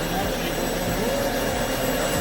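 A loud, steady rushing roar comes from the vacuum table of a FlatCUT 1800x1500mm flatbed oscillating-blade cutting machine, running continuously at close range.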